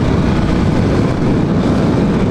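A Suzuki Hayabusa motorcycle accelerates, its engine a loud, steady broadband roar mixed with heavy wind rush for the whole stretch, with no voices.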